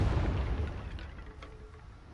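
A Confringo blast spell goes off in a video game, a dull muffled boom with a rumbling low tail that fades over about two seconds, with no talking over it.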